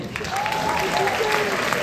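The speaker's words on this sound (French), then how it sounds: "Mesdames et messieurs, merci d'applaudir à nouveau Philippe Brouillet." Applause rises from the audience at the Gérardmer fantastic film festival awards ceremony, a broad continuous wash of clapping with a tonal sound threading through it.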